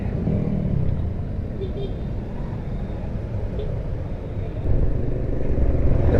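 Road traffic near Gaisano Grand Mall in Basak, heard from a scooter in motion: a steady low rumble of engines and passing vehicles with wind, rising slightly toward the end.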